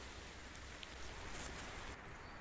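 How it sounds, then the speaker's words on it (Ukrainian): Rain begins falling outdoors at a dig site, a steady soft hiss of drops spread across the ground and leaves, fairly faint and even throughout with no voices. "Пішов дощ."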